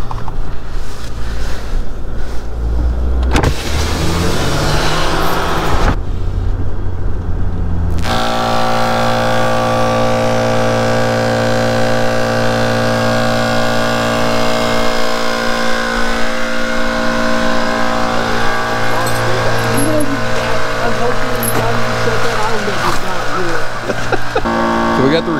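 A Hyundai Santa Fe fitted with tire chains on a snowy forest road at night, its engine rumbling loudly and steadily as it pulls away, with a shifting mechanical whine and people talking over it.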